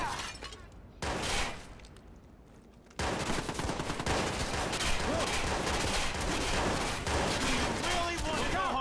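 Gunfire breaks out in the Watch Dogs video game, with scattered sharp shots at first and then a sustained barrage of rapid bursts and crackling impacts mixed with some shattering. Voices are faintly present under the shooting.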